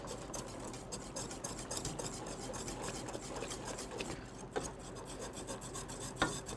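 A spoon stirs thickening cheesy alfredo sauce in a pot, scraping the bottom constantly in a continuous close rasping rub with occasional sharper knocks against the pot.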